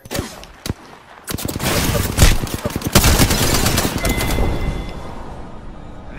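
Video game gunfire: a few sharp single shots, then dense automatic bursts with loud cracks, continuing in rattling volleys before easing into a quieter rumble.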